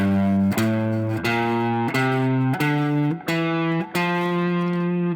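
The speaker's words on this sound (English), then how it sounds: "Major scale sounds like this." Electric guitar plays an ascending major scale with a distorted, effects-laden tone, eight sustained notes struck one after another at an even pace, loud and close with no talking.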